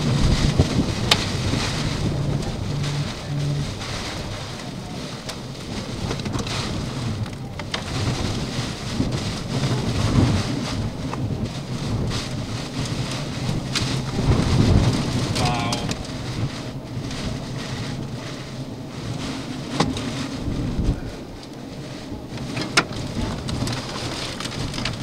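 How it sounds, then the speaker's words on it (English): Heavy rain and gusting wind from an intense derecho storm in Iowa batter the microphone in a steady, loud roar, with rumbling low thunder-like noise and faint voices buried underneath throughout. "that helps explain why the winds were so intense with that storm"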